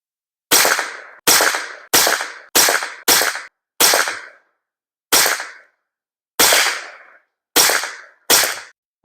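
Ruger pistol fired at a sport shooting competition, a string of eleven sharp, loud cracks with short echoing tails, irregularly spaced with a few quick pairs and longer pauses, heard close with no talking.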